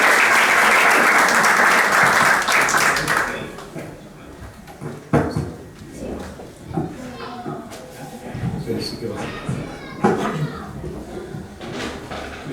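Loud audience applause welcomes a guest speaker, an Arabic-to-Spanish translator, at a Ramadan talk. It fills the opening three seconds and fades to scattered claps and room noise under quiet talk.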